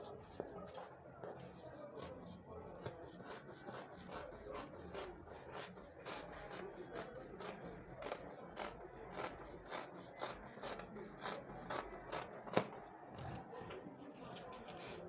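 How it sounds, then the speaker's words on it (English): Scissors snip through dress fabric, back and front pieces cut together, giving a long run of soft, evenly spaced crisp cuts close by and fairly faint over a low background murmur. "So I'm going to cut now. I am cutting the back and front together."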